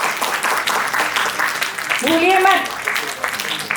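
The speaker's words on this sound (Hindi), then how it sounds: "Huge round of applause." Audience applause at a retirement celebration, with a crowd clapping beneath a voice addressing them, plus a short tonal sound midway.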